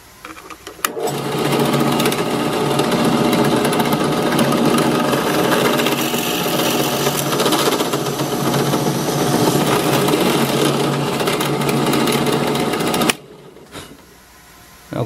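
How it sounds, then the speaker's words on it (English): A power drill whirs steadily and loudly for about twelve seconds while drilling through a puzzle board, a continuous motor drone that cuts off abruptly near the end. "We'll hold it in place and start the drill."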